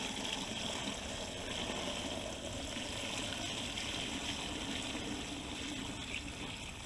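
Water pours from a 5-gallon bucket into a large pot for frying a turkey outdoors, a continuous loud gushing splash that holds steady throughout with no pauses.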